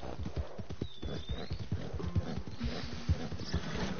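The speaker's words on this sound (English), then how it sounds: "Get on your horse and get out." Galloping horse in the Western video game Red Dead Redemption 2, a rapid, uneven drumming of hooves close up with a brief whinny cutting through near the start.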